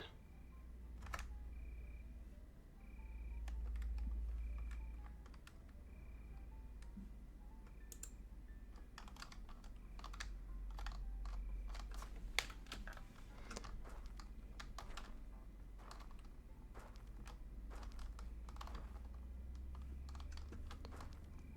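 Computer keyboard typing runs through a long stretch: irregular bursts of quick, light key clicks with short pauses, close but quiet over a low steady hum, and no talking.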